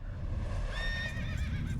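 A horse in the video game Shadow of the Colossus gives a clear whinny that rises and wavers for about a second over a low rumbling game background.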